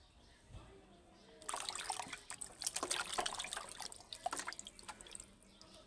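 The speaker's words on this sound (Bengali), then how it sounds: "এখন এগুলোকে ভালো করে পানি দিয়ে ধুয়ে নেব কয়েকবার করে" Splashing water and dripping as chicken meat is rinsed by hand in a bowl or sink, close and irregular, starting after a quiet moment.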